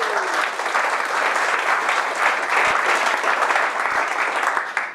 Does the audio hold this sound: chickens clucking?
no